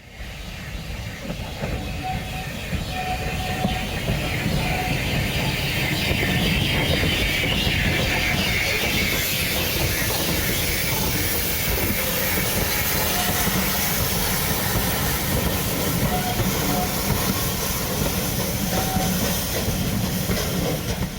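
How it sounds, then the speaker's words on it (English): Southern Railway Bulleid Light Pacific steam locomotive 21C127 Tor Valley runs at a winter steam gala, a loud sustained roar and hiss of steam over a rhythmic rumble and clatter of wheels and carriages that builds and holds. "Another engine that was having one last turn before overhaul was Southern Railway 21C127 Tor Valley."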